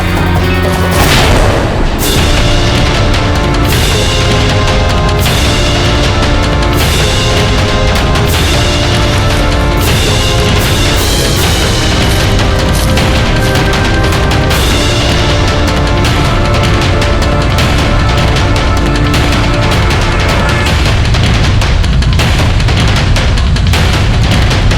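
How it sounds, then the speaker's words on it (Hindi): Loud explosion blast in a Hindi historical TV drama about Maharana Pratap, a continuous dense roar of booming and crashing impacts under dramatic music for nearly 25 seconds, with no talk. "कितना जबरदस्त धमाका था"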